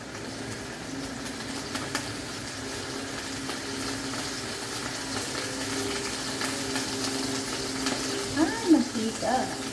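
Food frying in a pan of oil, a steady loud sizzle and crackle throughout with a few clinks of utensils near the end.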